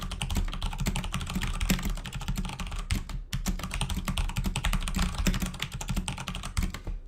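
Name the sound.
typing on Aula mechanical keyboard with brown switches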